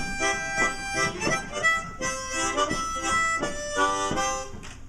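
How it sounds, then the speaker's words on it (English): Harmonica played clumsily with choppy, uneven puffs of reedy chords, several short bursts in a halting rhythm, close and moderately loud with no voice. "if you read it, you'll play the harmonica all right, except it'll sound like this"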